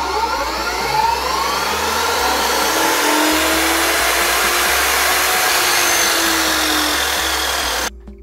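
A roughly 2,300-watt electric saw running on solar power runs steadily for about eight seconds, a loud, continuous whining buzz, then cuts off abruptly near the end.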